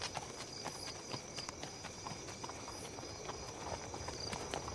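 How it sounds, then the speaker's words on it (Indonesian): A horse being ridden around a village, its hooves clip-clopping in a steady walking rhythm at moderate distance, with a constant insect-like whine and faint outdoor ambience behind. "lalu Tommy menumpaki kuda itu untuk keliling desa"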